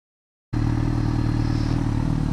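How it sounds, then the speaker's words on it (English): A motorcycle engine idles steadily after being jump-started, a loud, close, continuous throbbing with rattly clatter that kicks in suddenly after half a second of silence. "The bike's up and running again. Had to do a little jump start."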